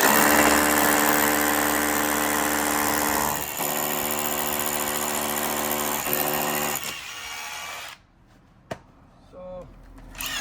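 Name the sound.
SDS drill in hammer drill mode drilling brick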